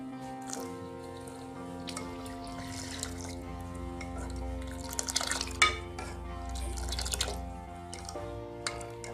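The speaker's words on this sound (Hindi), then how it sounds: "और अब इसमें जाएगा 1 गिलास ठंडा पानी।" Cold, iced water is poured from a glass into a pan of tea leaves and baking soda for Kashmiri pink tea, making a soft, close splashing trickle that swells midway and then tapers.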